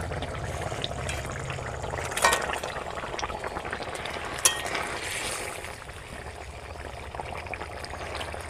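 A pot of freshwater fish curry with eggplant boils steadily, a continuous close bubbling and simmering with a couple of sharp clinks, no one speaking.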